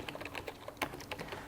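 Typing on a German-layout computer keyboard, a close, steady run of quick key clicks with irregular rhythm and a few sharper strikes, heard alone without voices.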